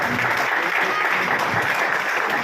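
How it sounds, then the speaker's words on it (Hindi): Steady applause from a crowd, dense and even throughout, with some voices mixed in underneath. "जोरदार तालियां होनी चाहिए"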